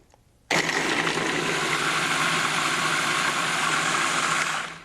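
A kitchen blender whirs sofrito ingredients for Mexican sofrito, kicking on abruptly after a brief quiet moment and then running as a loud, steady, close motor buzz until it winds down at the end, with no talking.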